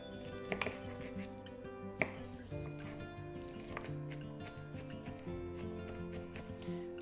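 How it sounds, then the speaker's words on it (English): A knife chops an onion on a cutting board in quick, irregular taps, close and soft, with faint background music underneath. "I'm gonna cut it the long way first, and then I'm gonna turn it and chop it the other way"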